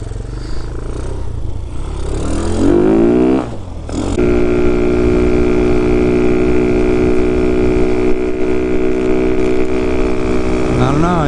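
A Hellcat Raptor 125cc motorcycle engine idles close up after a quick rev, settling into a loud, steady, buzzing idle with a strong even tone.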